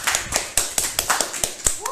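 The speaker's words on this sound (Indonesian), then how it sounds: "Aduh, tepuk tangan dong." Scattered hand claps ring out in a talk-show setting, a brief burst of sharp irregular applause with voices talking over it.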